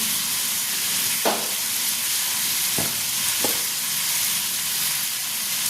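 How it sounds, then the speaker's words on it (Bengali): Food fries in a pan on a high flame with a little turmeric powder, a steady close hiss broken by three light taps of a stirring spoon. "এবার এটাকে আমি ফ্লেমটা হাই করে 2 মিনিটের মতন ফ্রাই করে এটাকে আমি প্রেশার কুকারে কুক হতে দেবো"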